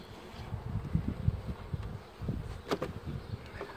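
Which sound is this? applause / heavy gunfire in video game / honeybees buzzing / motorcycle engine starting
honeybees buzzing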